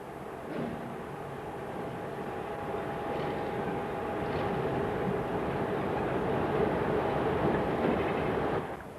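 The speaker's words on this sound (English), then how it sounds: "At the Manchester end of the platforms, a succession of 76 haul trains pass the power control centre." Class 76 electric locomotives haul a heavy rumbling train steadily past on the Woodhead route, with a droning engine tone, rolling wheels and faint clanks, building slightly louder before easing off.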